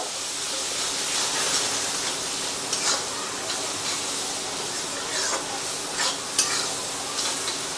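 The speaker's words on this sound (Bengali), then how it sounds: "তো সব কিছু দিয়ে মশলাটাকে খুব ভালো করে মিক্স করে নেব।" Masala spices are stirred and fried in a pan with a little water, a steady sizzling hiss broken by scraping stirring strokes and small clicks of the spoon.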